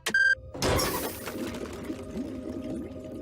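Cartoon spaceship engine revving up with a whirring, sputtering rumble after a short beep, loud at first, then settling into a steady mechanical drone.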